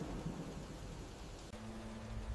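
A thunderstorm with heavy rain gives a low, steady roar of rain with rumbling thunder underneath, faint and continuous with no voices.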